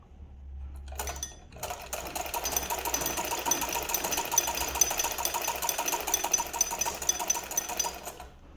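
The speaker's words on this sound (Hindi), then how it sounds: "ये इस तरह से वापस से सिलाई करेंगे इस पर" A sewing machine runs steadily while backstitching over fabric on a stitching course, its rapid mechanical chatter continuous and close after a brief stop-and-start at the beginning, with no voices.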